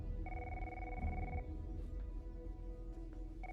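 A telephone rings in a TV show scene, a steady electronic two-tone ring that plays for about a second, breaks off, then starts again briefly at the end over a low background hum.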